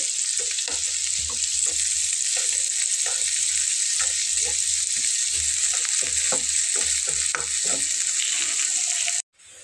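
Radish pieces fry in a pan over medium-low heat, giving a steady close sizzle broken by soft stirring and spatula scrapes that cuts off abruptly near the end.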